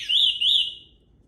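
The alarm on a Roadrunner E3/E4 electric scooter sounds as a shrill electronic two-pulse warble, moderately loud, then fades out against a faint low background.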